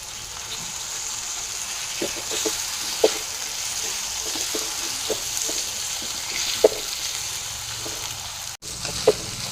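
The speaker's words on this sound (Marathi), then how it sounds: "कांदा छान असा परतून झालाय" Chopped onion and tomato frying in a pan for paneer bhurji, a soft continuous sizzle with occasional light clicks of stirring, alone without talk.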